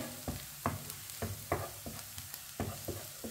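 A leftover rice dish cooks in a pan with a soft background sizzle and repeated sharp scrapes of stirring in an uneven rhythm, close but fairly quiet, with no one talking.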